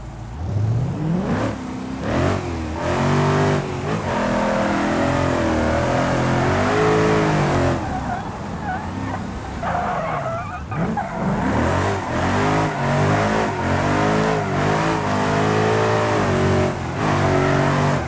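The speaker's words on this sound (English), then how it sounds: "That exhaust does sound very nice on this though" A car engine in the video game BeamNG revving hard and repeatedly, rising and falling in pitch, with a loud throaty exhaust roar and brief tire squeals.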